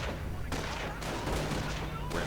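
Gunfire and grenade blasts trade back and forth in a World War II strategy game battle between grenadiers and airborne troops, with a King Tiger tank on the move; bursts crack in steady succession over a dense, continuous din.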